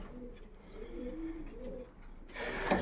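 Several pigeons coo in soft, low, repeated phrases inside a pigeon loft, fairly close, followed by a brief burst of rustling or flapping near the end; no talking.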